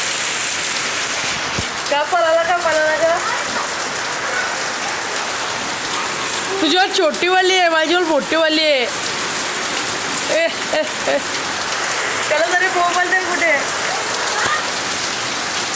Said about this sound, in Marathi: आलेला आहे पाऊस बघू शकता.